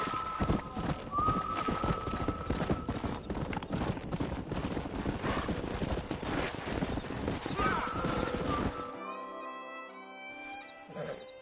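Galloping horse hooves pound in steady clip-clop rhythm with a couple of whinnies in Red Dead Redemption, loud and close, before the hoofbeats fade and a short stretch of music takes over.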